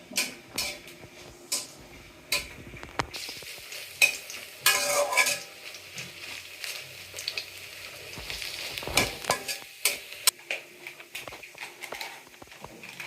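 Dry red chillies fry and sizzle in a pan, with frequent scraping and stirring clatter throughout, moderately close and steady, no talking.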